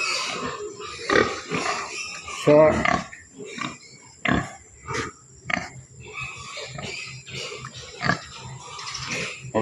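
A large pig on a farm grunts and snorts repeatedly at close range in uneven bursts, with people talking over and between the grunts.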